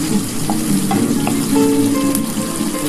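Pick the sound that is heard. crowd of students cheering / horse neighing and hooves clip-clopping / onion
onion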